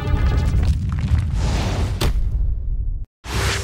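Game show bomb room challenge ending in a loud booming explosion with a whooshing burst, a sharp crack partway through, a short silent gap, then the rumble resuming.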